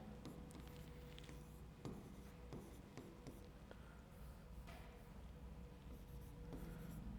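Chalk or marker scratches out maths on a board in steady strokes and taps, continuous close scraping with short pauses between marks, no voice.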